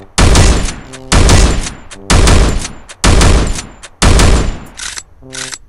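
Winchester rifle shots in the video game Free Fire, five loud booming reports about a second apart, each followed by a short metallic lever-action cycling, close and punchy, with a fainter click sequence at the end.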